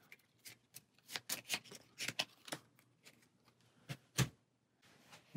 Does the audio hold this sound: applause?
no